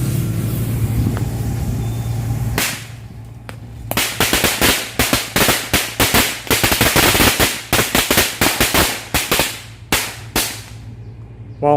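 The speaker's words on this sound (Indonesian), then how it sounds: "Selanjutnya kita cobain petasan korek satu gepok" A bundle of match firecrackers bursts in a rapid, irregular string of loud, sharp cracks lasting several seconds outdoors, preceded by a low steady hum and a brief pause before the chain of explosions begins.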